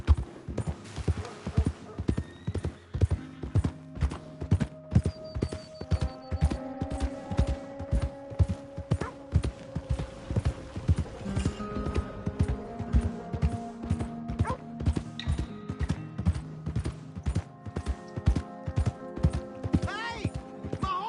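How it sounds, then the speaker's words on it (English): Galloping horse in the western game Red Dead Redemption II, steady rapid clip-clop hoofbeats running throughout, close and prominent, with music and voices mixed underneath. "Hey! My horse!"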